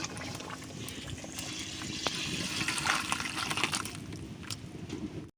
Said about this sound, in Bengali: ঝোলটা ঢেলে নেব সম্বরা করার জন্য